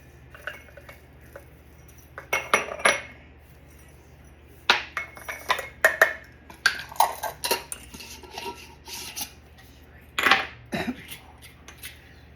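Metal and glass clinks from a measuring cup scooping homemade onion flakes for a gluten-free onion soup mix, a scattered run of light, close taps and clatters over a quiet background, with no speech.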